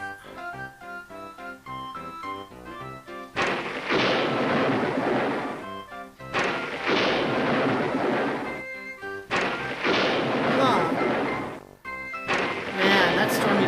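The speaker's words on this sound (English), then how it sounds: "This is one humdinger of a storm. I hope the ship keeps floating." Storm at sea with thunder in the video game Yukon Trail: repeated loud, broad cracking booms crash in at intervals over a tinkling musical background, each burst rumbling for a couple of seconds before fading.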